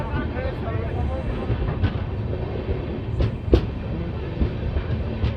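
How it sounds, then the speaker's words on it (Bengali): Tebhaga Express train pulling into Gazol station in the morning, a steady broadband rumble of rolling coaches with brief sharp clanks and squeals over it, close and continuous, with faint voices mixed in. "সকাল প্রায় সাতটার সময় ট্রেন এসে পৌঁছালো গাজল স্টেশন"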